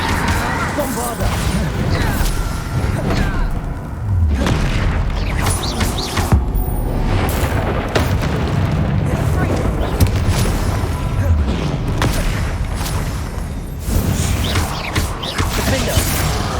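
Bombarda spell explosions in the Hogwarts Legacy video game, with repeated loud booms and crashing impacts amid constant dense battle noise, while a voice shouts spell names over the chaos.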